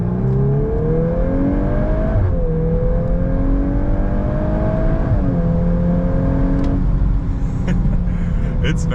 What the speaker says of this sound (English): you guys know I can't do a Golf R video without doing a little acceleration here